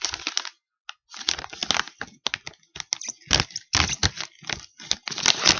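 Stiff plastic snack packaging for mini blueberry oat cookies is pulled open, giving loud, irregular crinkling and crackling bursts separated by short pauses, close to the microphone.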